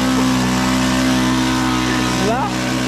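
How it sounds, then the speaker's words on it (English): A four-stroke glow engine on an RC plane runs at a steady loud buzzing drone, close up, rising in pitch near the end as it revs, with people talking over it. "This is a 4-stroke engine."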